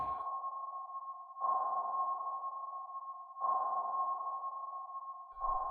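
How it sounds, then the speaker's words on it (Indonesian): Submarine-detection sonar pings sound as a pure, steady tone that swells in regularly spaced pulses roughly every two seconds, alone and moderately loud. "laras sonar yang terpasang di lambung dan laras sonar yang ditarik, yang memberikan sinyal peringatan saat aktif"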